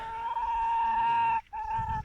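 A pygmy goat bleats loudly and close by in one long wavering call, then a second shorter bleat follows after a brief pause.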